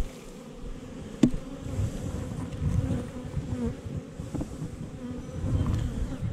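A dense, continuous hum of many agitated honey bees buzzing close by during a hive honey harvest, steady and agitated, with occasional louder swells.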